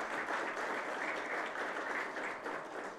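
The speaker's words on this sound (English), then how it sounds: "Please welcome him with a round of applause." An audience at an automotive after-sales industry panel claps continuously, a steady wash of applause filling the whole moment.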